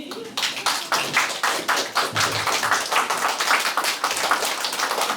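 Lively, rhythmic applause from a small crowd at a ribbon cutting opening an Ukrainian art exhibition in Schwerin, Germany, sustained and close with brief talk at the start.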